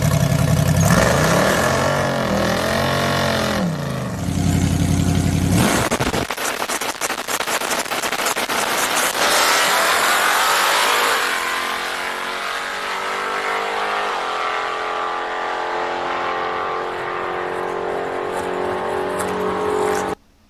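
Drag race car making a pass with the trans brake on, a loud engine held at high revs that roars off the line and then fades into the distance, with no talking.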